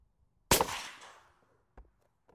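A single sharp rifle shot, the first fired with a red dot sight mounted on a scope, cracks out and rings briefly into the distance, with faint thumps afterward in otherwise quiet surroundings.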